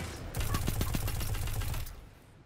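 A quick burst of rapid gunfire from the video game Destiny 2, several sharp shots rattling off in close succession for about a second and a half before cutting out.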